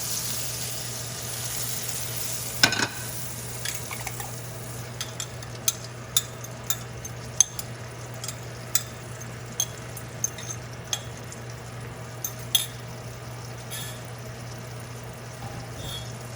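Eggs cooking in a pan for a quesadilla alongside cheese and hot link, a steady low sizzle with a sharp utensil scrape near the start and scattered light taps and clicks against the pan throughout, fairly quiet and close.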